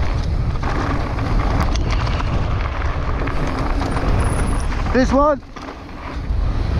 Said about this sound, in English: It's a bit breezy up here today on this side.